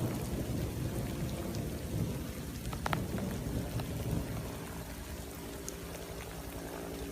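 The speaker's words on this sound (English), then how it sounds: "The thunder's alright as long as there's no lightning attached." Rain falls steadily and thunder rumbles low and continuous throughout a stormy stretch, the whole soundscape faint and distant with no voices.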